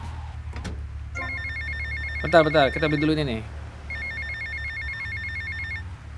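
A mobile phone in GTA Vice City Definitive Edition rings with repeated trilling electronic bursts over a steady engine hum, while someone talks over the first part of the ringing.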